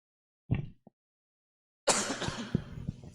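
A single short cough from a preacher during a sermon, then a brief pause before speech resumes.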